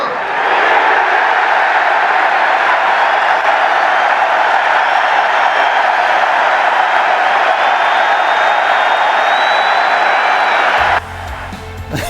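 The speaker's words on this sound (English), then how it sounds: "Sellout crowd at Fenway just going nuts when Rivera's introduced" Sellout Fenway Park crowd roars and cheers on opening day as Yankees closer Mariano Rivera is introduced, a dense, sustained wall of loud crowd noise with scattered whistles, cutting off abruptly near the end.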